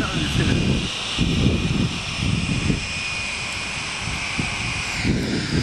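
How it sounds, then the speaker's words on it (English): Lockheed TriStar jet engines at RAF Brize Norton: a steady, broad roar with a high whine running through it, loud and sustained, while people talk close by. "It's that Tristar that we saw."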